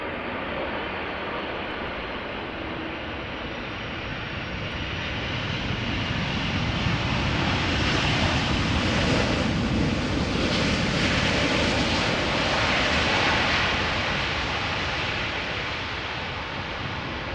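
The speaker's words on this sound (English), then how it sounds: "first up we are going to see this Boeing 747-400 Cargolux arriving from Miami," Cargolux Boeing 747-400 cargo jet arriving at Amsterdam Schiphol from Miami, a loud broadband engine roar that swells toward the middle and stays strong to the end, heard from a distance with no talking.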